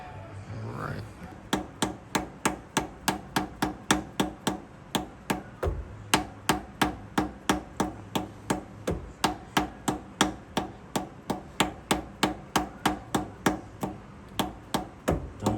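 A Snap-on seal installer is driven onto a crankshaft seal on a 2024 Polaris Ranger Northstar with a long, steady run of sharp, evenly spaced hammer blows, close and loud, after a short stretch of talk.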